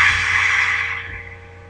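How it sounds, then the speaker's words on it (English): A Ghost Swoosh effect for a Sony Vegas intro: a single breathy, airy whoosh that starts loud and slowly fades away over under two seconds, with no voices. "I'm going to use Ghost Swoosh because it's different."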